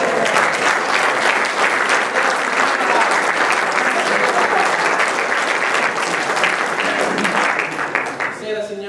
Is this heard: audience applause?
yes